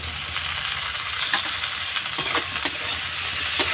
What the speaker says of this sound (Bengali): এগুলো একসঙ্গে ভেজে নেব।